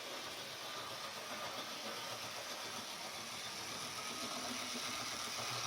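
A model Western region diesel locomotive runs on freshly repaired gears, giving a steady, faint mechanical whir and hum that holds at an even level throughout.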